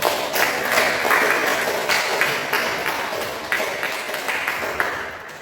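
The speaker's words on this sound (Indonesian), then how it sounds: "Silakan beri aplaus untuk." Classroom applause for a student during a coding lesson, a steady wash of clapping from a small group lasting several seconds and slowly thinning out, with a little voice murmur underneath.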